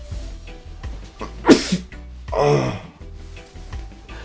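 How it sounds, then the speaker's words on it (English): A single sharp sneeze bursts out, then a second, longer sneeze-like exhale follows, over a low steady background hum. "I hope that sneeze is not coming from the corona."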